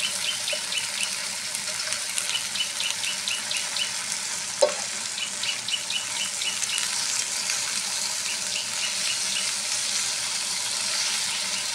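Malabar spinach in a hot pan with prawns, pumpkin and potato gives a steady, close sizzle and frying hiss, with one brief clink of stirring partway through.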